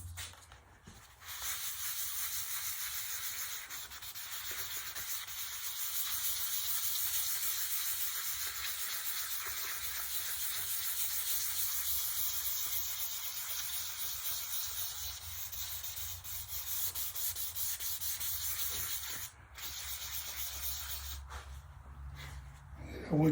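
A spray gun lays the first finish coat onto a guitar top, producing a long, steady hiss that runs almost without break, pausing briefly once before resuming.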